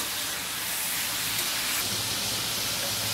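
Chicken pieces fry and brown in hot oil for a Lucknowi chicken korma, giving a continuous bright sizzling hiss, close and steady, with no talking over it.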